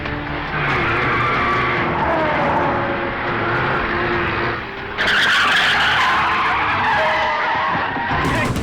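A car races through a movie chase scene with loud, sustained engine roar and skidding tires, the noise surging louder partway through, with no talk over it.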